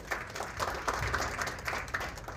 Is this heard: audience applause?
yes